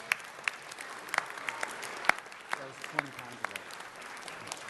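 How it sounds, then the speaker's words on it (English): Scattered, sparse hand claps from a small group at a city council meeting, honoring a marathon runner, with a few sharp louder claps standing out over quiet room murmur. "Let's give him a round of applause."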